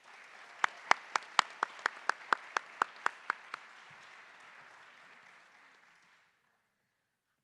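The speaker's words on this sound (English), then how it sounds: "please give a round of applause for this year's second Leaving a Legacy Scholarship recipient" Audience applause at a 2022 senior awards night for a scholarship recipient: a light wash of clapping with one nearby clapper's loud, evenly spaced claps standing out, fading away after about six seconds into near silence.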